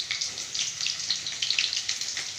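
Steady crackling sizzle of chopped onions frying in a hot pan, bright and continuous with small pops, close by and with no talking.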